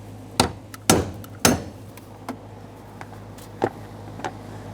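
A brass punch struck with a hammer to turn the fuel pump locking ring on a 2007-2017 Jeep Patriot: three loud, sharp metallic blows in quick succession, followed by several lighter taps, close up with no talking.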